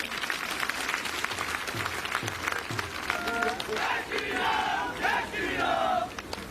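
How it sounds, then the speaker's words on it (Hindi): A crowd at an outdoor political rally in Jaswan Pragpur claps and cheers together, dense noisy applause with shouts rising over it and voices heard through the mix. "तालियां होनी चाहिए जरा"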